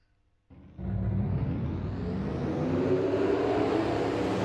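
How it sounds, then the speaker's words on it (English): Race car engines in the NRSL Coke Vanilla Cup Series at Colgate 400 fire up after a short quiet moment, building into a loud, dense, steady roar of a whole field of stock cars in a racing video game. "Drivers, start your engines!"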